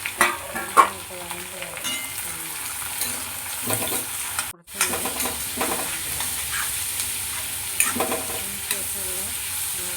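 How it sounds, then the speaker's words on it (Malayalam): Chopped small onions sauté in a pan for a prawn theeyal, crackling and sizzling loudly and steadily as they are stirred, with scraping strokes now and then and a brief dropout midway. "ചെറിയ ഉള്ളി നന്നായിട്ട് വഴറ്റുക"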